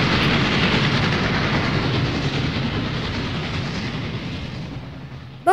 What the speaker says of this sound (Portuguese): o pequeno príncipe avistou um trem iluminado que vinha passando roncando como um